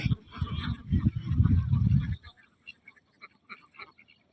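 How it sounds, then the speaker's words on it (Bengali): Several ducks on a riverside duck farm quack and honk together in a loud, busy burst, then scattered softer calls follow farther off. "কি সুন্দর হাঁস, হাঁসের ফার্ম"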